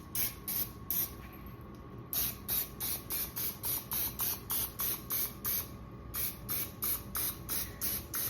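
Short hissing bursts of cooking spray onto a mini muffin pan, repeated in a quick steady rhythm, close up, with a brief pause partway through.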